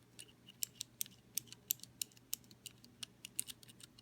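Green mechanical keyboard switches, slightly sticky with the case bottom swapped, pressed in a quick irregular series of sharp close taps and clacks, quiet overall with no voice.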